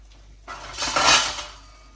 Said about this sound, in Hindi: बस मिक्स कर लेते हैं अच्छे से।